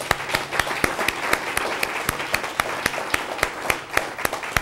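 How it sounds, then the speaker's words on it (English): A lecture audience applauding award finalists with a sparse, steady patter of individual claps, moderately loud and heard without talk. "Please give them a round of applause."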